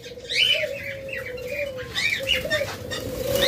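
Java sparrows kept in a bird sale setting give repeated short chirps and soft twittering calls, close and moderately loud, with a steady low-pitched hum running underneath and no one speaking.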